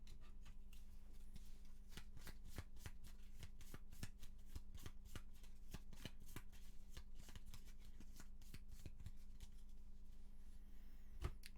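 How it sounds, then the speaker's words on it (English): Gloomhaven board game cards being shuffled by hand, a run of sharp, quick riffling snaps repeating in close succession, near and fairly quiet, with no talking. "This has to get shuffled."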